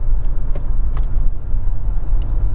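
A 2016 Honda HR-V 1.5 with CVT driving in sequential S mode, giving a steady low engine and road rumble from inside the car, with faint clicks above it.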